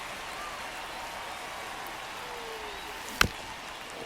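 Steady soft rain falls throughout a rainy-day baseball game in MLB The Show, a continuous hiss at low volume, broken once near the end by a single sharp crack.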